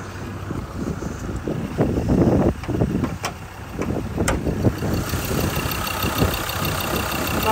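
A 2020 Mazda BT-50 XT 4x4 ute idles with its hood open, a steady low engine rumble mixed with gusty wind noise across the microphone and a few sharp ticks, close and continuous.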